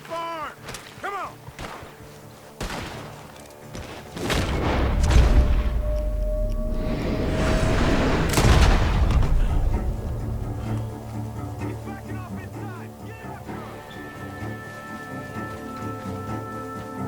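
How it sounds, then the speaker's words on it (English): Sharp gunshots crack from a barn in Red Dead Redemption 2, several single reports early on followed by louder booming blasts and a rumbling mid-section, with scattered further shots and game ambience continuing. "The gunshots are coming from that barn."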